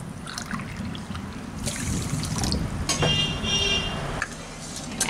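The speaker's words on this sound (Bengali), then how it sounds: "এক কাপ চিনিতে আমি প্রায় দেড় কাপ মতো জল দিয়ে দিচ্ছি" Water pours into a pan holding a cup of sugar for a thin syrup, a close, uneven trickling and splashing that swells and fades over a few seconds, with no talking.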